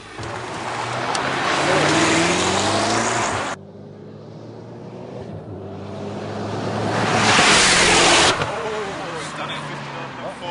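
A Gumpert Apollo sports car on a hot lap makes loud engine noise that builds and falls, cuts out briefly, then surges again as it passes, with people talking over it.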